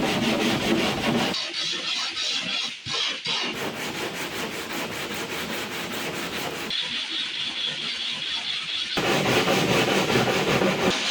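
Plywood boat hull side panels for a Michalak AF4 Grande skiff are sanded and faired along their cut lines, giving steady, close rasping strokes in several long bursts separated by brief pauses.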